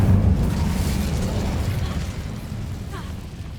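The Incendio fire spell from Hogwarts Legacy bursts in a loud, deep whooshing blast at the start, then rumbles and fades over a few seconds.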